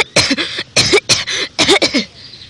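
A burst of harsh, repeated coughing, about five or six loud coughs in quick clusters, close to the microphone.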